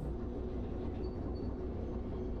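A train rolls along steadily in Derail Valley, a continuous low rumble of wheels and rail noise that stays at an even level for the whole stretch, with no voices.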